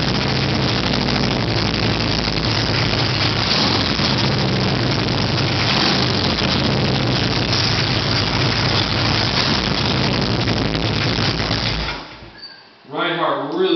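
A 2005 Harley-Davidson Street Glide with a 103-inch Screamin' Eagle engine and Reinhardt dual exhaust rumbles steadily at idle, loud and close, with a deep continuous drone that cuts off near the end.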